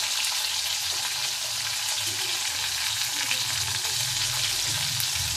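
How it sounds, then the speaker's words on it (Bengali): Pointed gourd (parwal) pieces fry with a little salt in oil in a small wok over medium heat, producing a dense, even sizzle that holds steady throughout, loud and close. "যেহেতু আমার ছোট কড়া, আমি অল্প অল্প করেই ভাজছি"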